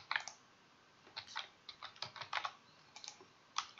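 Keystrokes on a computer keyboard as a password is entered, a quiet irregular run of close, crisp taps in small bursts with short pauses.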